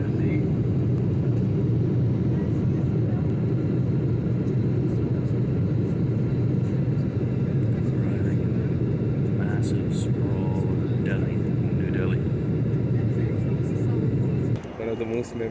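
Steady, loud low-frequency roar of an airliner cabin during landing on a flight from Amsterdam, continuous engine and airflow rumble with faint scattered tones above it, shifting slightly near the end.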